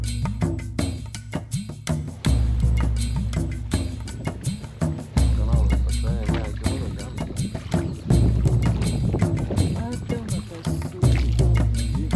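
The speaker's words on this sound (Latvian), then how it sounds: "tagad laidīsim ar šādu laiviņu." A small rowboat moving across a lake in Sri Lanka, with loud, constant wind buffeting the microphone and water sloshing beneath it, while people talk throughout.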